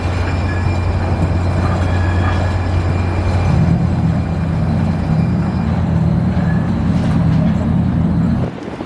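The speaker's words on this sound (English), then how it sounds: "The Central Subway is finally running." San Francisco Central Subway train running, a loud, steady low rumble and rolling rail noise with a rising hum partway through, continuous for several seconds before easing off at the end.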